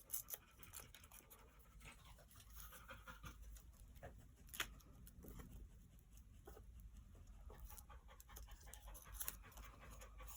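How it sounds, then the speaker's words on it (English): A dog pants quickly and steadily, breathless and faint, somewhere in a quiet room, with soft pattering and scratching underneath and no voices. "do you hear the dog?"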